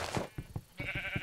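Sheep bleat from the Minecraft video game: a few short, nasal calls come close together at moderate volume over faint background game noise.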